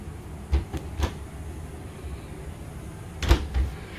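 Kitchen drawers in a 2019 Grand Design Solitude 373FB fifth-wheel RV slide open and shut, producing a few soft thuds and knocks spaced out over a quiet room tone, with a sharper bang near the end.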